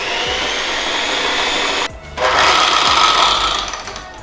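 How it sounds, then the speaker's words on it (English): An electric hand mixer whirs loudly and steadily, beating egg yolks, brown sugar and vanilla extract together, with a brief pause partway through before the motor picks up again, close and continuous. "we are going to beat the egg yolks, brown sugar, vanilla extract together until pale and creamy"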